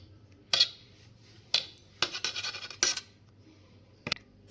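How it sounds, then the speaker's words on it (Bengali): Omelet ingredients whisked together in a bowl: a few separate bursts of clinking and scraping, utensil against dish, close by and fairly quiet with short pauses between. "এই সবগুলোকে আমি একসাথে মিক্স করছি।"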